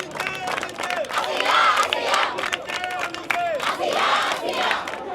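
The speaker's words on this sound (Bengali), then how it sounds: "তারা এখানে স্লোগান দিচ্ছেন" College students at a Shahbagh protest chant anti-rape slogans in unison, a loud crowd of many voices rising and falling in rhythmic repeated shouts.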